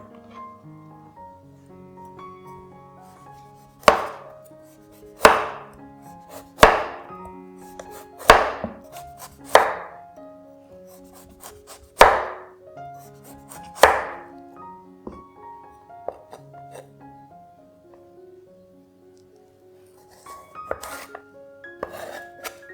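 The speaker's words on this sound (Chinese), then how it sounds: "红萝卜去皮切片，再对半切了放到盆里备用。" Knife chopping peeled carrot slices in half on a cutting board, seven sharp evenly spaced strokes close up, followed by quieter clattering as pieces are handled.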